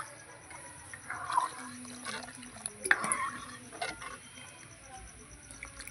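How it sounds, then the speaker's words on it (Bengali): Water poured into a pot of mung dal cooking with a katla fish head, a soft splashing trickle in a kitchen, quiet with faint clinks and background noise. "এবার আমি জল দিয়ে দেবো।"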